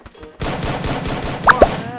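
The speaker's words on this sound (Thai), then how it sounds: "โอ้โหเฮ้ยมันยิงรัวจังอ่ะ" Rapid automatic gunfire in the Free Fire battle royale game, a loud, dense burst of fast shots that starts abruptly and runs continuously, with a couple of sharper impact sounds near the end.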